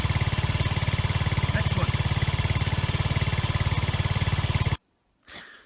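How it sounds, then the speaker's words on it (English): A Honda Zoomer scooter engine runs close and loud with a steady, fast putter for about five seconds, then cuts off abruptly; after a brief silence a short burst of noise follows and a voice speaks. "It's okay, revved it up, going okay."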